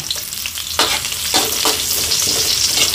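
Ginger and garlic frying in a pan, a loud close sizzle with stirring scrapes and bursts of crackle throughout.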